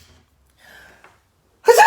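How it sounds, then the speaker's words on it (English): A woman sneezes once, sudden and close, at the end of a short quiet stretch with faint breathy sounds before it. "I don't think I've ever sneezed on this show before."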